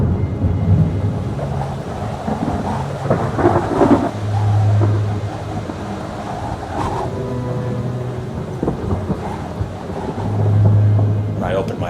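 A thunderstorm rolls over the open sea, with deep rumbling thunder and a wash of rain and waves. Low booms swell several times across the span, loud and dense, with an undertone like a voice speaking in the mix.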